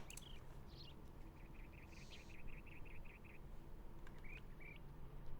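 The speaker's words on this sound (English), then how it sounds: "Let me turn my Sims 2 off and then turn up the game sound and see if we can hear any birds." Faint ambient birdsong from The Sims game: a quick series of repeated high chirps in the middle, with scattered single tweets before and after over a low steady background hum.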